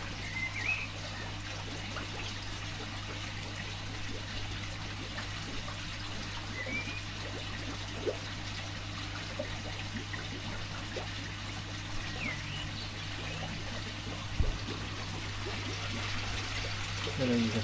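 Water trickles and bubbles continuously in a koi pond, a soft steady burble with a low hum underneath and occasional faint sounds from the surroundings.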